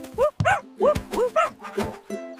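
Animated dog barking in a children's alphabet song, a string of about six short, bright yips and woofs in quick succession, close and clear, set against a backing music bed.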